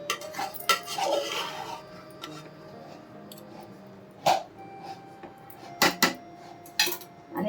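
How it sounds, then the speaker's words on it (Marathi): Matar paneer pulao gently stirred in a pot, soft rice shuffling broken by several sharp clinks and knocks of a spoon against the metal pot, close and otherwise quiet. "एकदा हलक्या हाताने आपण हलवून घ्यायचं आहे."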